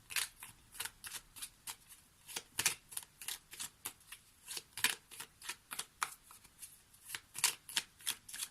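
A deck of tarot cards is shuffled in a steady run of quick, crisp riffling bursts, close and fairly loud, with no talking over it.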